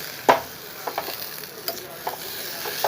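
Coriander, green chili and urad dal sautéing in a pan, a soft steady sizzle broken by a few sharp spoon scrapes and stirring knocks, close and alone.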